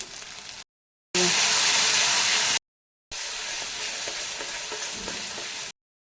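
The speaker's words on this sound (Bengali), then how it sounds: "মশলাটাকে দিয়ে ভেজে নেবো মশলাটা ভালো করে কষিয়ে নেব" Spice masala frying in a pan with bay leaves, salt and turmeric for a potato and pointed gourd curry: steady loud sizzling in two bursts broken by short silences, with light stirring scrapes.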